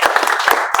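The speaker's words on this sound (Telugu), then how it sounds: "క్లాప్స్" A group claps together in a classroom, a short burst of quick, dense, close hand claps filling under a second.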